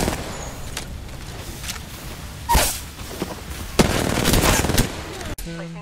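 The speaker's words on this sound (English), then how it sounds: "I'm taking shots. Frag out. Throwing thermite grenade." Gunfire in a video game shooter crackles in scattered bursts, with a sharp loud burst midway and another cluster of shots near the end, under a steady background of game noise.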